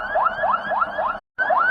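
Ambulance siren wailing in a repeating rising sweep, loud and steady with a brief cut in the middle, sounding as emergency vehicles collect wounded IDF soldiers amid war.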